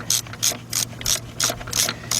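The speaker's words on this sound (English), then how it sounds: "And let's get that bolt out of there." A hand ratchet turns out a bolt on a 2006 Nissan Altima during low-side A/C suction hose work, with about seven quick, evenly spaced clicking bursts, close and clear with no talking.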